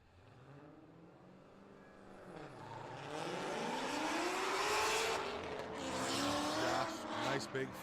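Powerful drift car at a Great Lakes ProAm drifting qualifying event flicks into the first outer zone, engine revving and rising in pitch with tire squeal, loud and continuous as the car passes.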